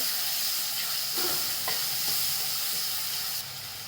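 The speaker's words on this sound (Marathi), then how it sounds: "कांदा चांगला परतून घ्यायचा चर आवाज बंद होईपर्यंत कांदा परतून घ्यायचा" Onion sautés in hot oil in a pan with a loud, dense, continuous sizzle close by, with faint stirring scrapes underneath.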